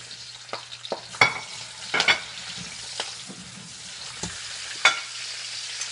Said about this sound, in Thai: ต่อไปนะคะก็ผัดผักค่ะผัดผักรวมนะคะ